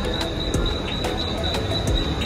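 A Mumbai local train rumbles steadily nearby, with a constant high whine, rhythmic wheel clatter and a couple of brief squeals, all loud and unbroken by talk.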